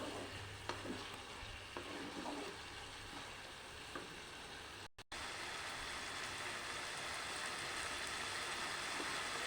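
Potol curry sizzling steadily in hot oil with garam masala just added, a dense continuous fry with scattered stirring scrapes, a brief dropout midway before the sizzle resumes louder.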